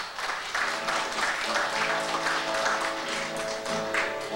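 Guests clap for Margaret Ann's 50th birthday in a sustained, fairly even round of applause from a small gathering, with faint murmuring voices beneath.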